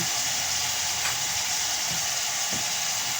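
Chicken adobo and potatoes fry together in a large pan, giving a loud, steady sizzle with faint clinks and stirring, and no voices.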